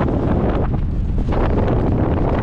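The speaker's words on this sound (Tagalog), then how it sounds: "Aabot ng 32 yung hangin." Strong wind buffets the microphone on a boat at sea bound for Coron, a loud, continuous roar with rushing gusts and no talk.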